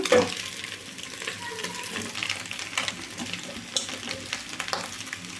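Leftover rice tossed and stirred in a pan over a high flame for egg fried rice, giving a steady close sizzle with scraping stir noises throughout.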